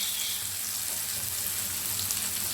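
Onions and potatoes frying in a pan, a steady, close hiss and sizzle that holds evenly throughout with no break.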